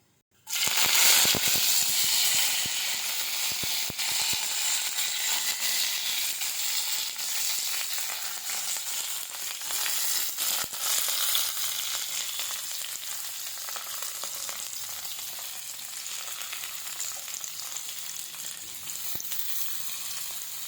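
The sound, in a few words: tempering spices frying and sizzling in oil in a pan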